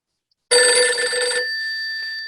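A telephone bell in an old-time radio drama, one loud, close burst of bright metallic ringing that cuts off abruptly and leaves a lingering ringing tail.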